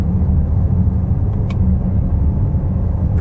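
Inside a 2020 Cadillac XT6 Sport SUV driven in manual shift mode, a deep engine rumble drones steadily through the cabin during a downshift, with a faint brief click.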